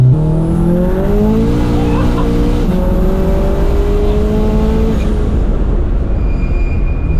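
A 550 hp turbocharged four-cylinder Peugeot 306, a non-road-legal build, revs loud and close, its rising and falling engine tones sweeping upward in pitch before easing off near the end.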